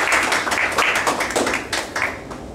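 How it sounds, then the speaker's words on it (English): A seated audience at a health talk claps in a short, uneven burst, individual hand claps audible in loose bunches at a moderate level before thinning out. "I would request all of you to please clap for them"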